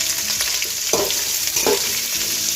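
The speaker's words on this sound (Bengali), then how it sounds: "প্রথমে আলুগুলোকে ভেজে নেব, এরপর গাজরগুলো দিয়ে নিলাম" Vegetables such as potatoes, carrots, pointed gourd and pumpkin frying in a pan for sabudana khichdi, a steady close sizzle with two brief stirring scrapes.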